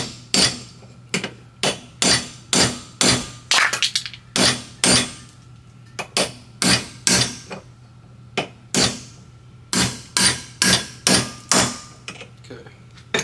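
A bearing is hammered into a 1985 ATC 110 hub held in a small vise, with loud, sharp metallic blows landing in quick clusters and brief pauses between them, close up and with no talk.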